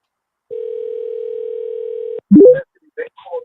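A steady telephone tone holds for about two seconds and then cuts off as the call is answered, followed by a burst of rising electronic chirps and faint voices.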